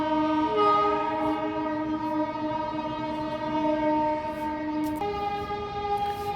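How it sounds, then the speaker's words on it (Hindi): A train horn sounds a long, sustained multi-tone chord that shifts pitch partway through, steady and fairly loud, with a faint rumble of the passing train beneath it. "ट्रेन जा रही है, ये उसकी धुन कितनी प्यारी लग रही है।"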